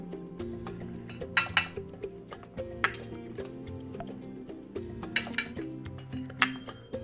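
Light clinks and taps of a utensil against a bowl as powdered curry, turmeric and chili powder are mixed together, close, irregular and fairly soft, with a steady low background.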